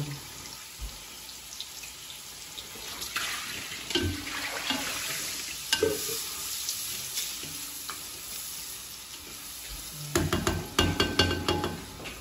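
Onions sautéing in a pan in a home kitchen, a steady close sizzle with occasional stirring knocks and scrapes, which grow louder and busier near the end.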